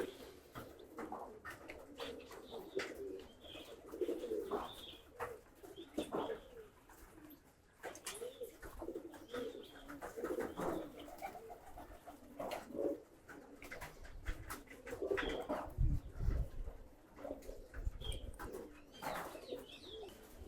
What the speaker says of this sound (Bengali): কবুতরগুলো ধীরে ধীরে নামা শুরু করছে একটা দুইটা করে